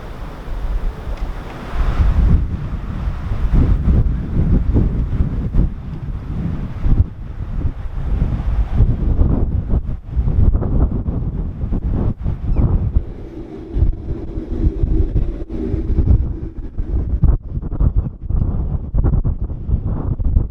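Strong winter storm wind roars and buffets the microphone continuously at a canal basin on the Llangollen Canal, with a churning, rushing wash like surf or water underneath, loud and unbroken throughout.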